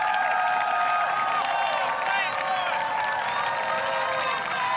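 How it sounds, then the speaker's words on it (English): A large crowd at the Munich European Championships triathlon applauds and cheers continuously with whistles and whoops, loud and dense throughout, with voices mixed in. "Hugely appreciative crowd"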